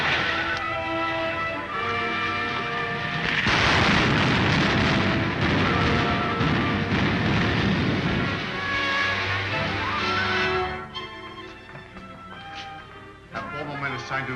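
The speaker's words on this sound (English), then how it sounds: "Fire the starting rockets, Wilma." Rocket engines firing in a 1939 science-fiction film serial, a loud roaring burst that swells and rumbles for several seconds, then fades under dialogue and music.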